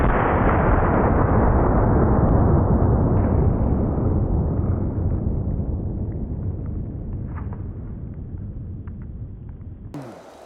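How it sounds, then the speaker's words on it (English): A Ruger American bolt-action 30-06 fires Norma 180 grain Bond Strike rounds at a body armor plate outdoors, one heavy booming report with a long rolling decay, then a sharp click near the end. "This is a Ruger American bolt action 30-06, and I'm gonna be using some Norma 180 grain Bond Strike rounds."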